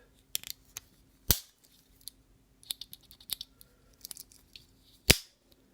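The scissors on a 34-year-old Victorinox Climber Swiss Army knife make a handful of sharp, dry snips and clicks, spaced irregularly and close up, in an otherwise quiet space.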